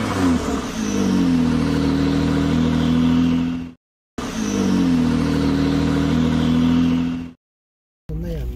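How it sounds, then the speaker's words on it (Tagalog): A car stuck in snow and slush revs its engine hard and close by. There are two sustained rising roars, each cut off sharply, and a third rev begins at the very end. "hindi makaalis yung sasakyan."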